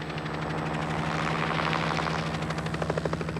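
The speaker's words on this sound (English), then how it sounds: "Every summer, Stewart orders his ground and helicopter crews to kill larvae with a variety of bacterial insecticides" A helicopter used for spraying mosquito larvae with bacterial insecticide drones steadily and loudly nearby, its rotor chop becoming a distinct rapid pulsing toward the end, with no voices.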